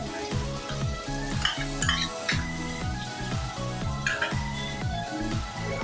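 Finely chopped onion and minced ginger-garlic frying in hot oil in a pan for chilli paneer, a steady close sizzle with occasional stirring scrapes, over background music.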